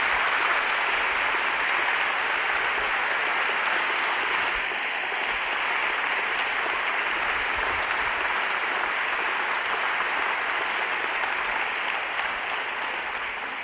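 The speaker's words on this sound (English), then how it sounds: "Can I have some more clapping for Martin Seligman?" Dense, steady applause from a lecture audience fills the whole stretch after Dr Martin Seligman's talk in Adelaide, loud and sustained throughout without a break or fade.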